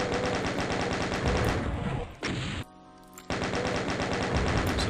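Rapid bullet fire rattles in a Doom slaughter map, a dense machine-gun stream of shots that stops briefly twice before the relentless firing resumes, loud and close.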